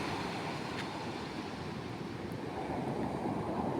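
Sea waves along the shore at Paratong 4 that had earlier flooded houses, now a steady, moderate wash of surf with a wind-buffeted rush and no distinct voices.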